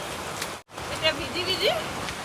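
Rain hisses steadily with a brief dropout, while a voice speaks briefly over it partway through, in Meghalaya.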